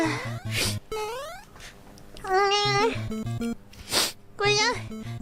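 Short, high-pitched sneezes from a Hololive VTuber sneeze compilation come in quick bursts, mixed with squeaky voiced sounds and chatter in the background.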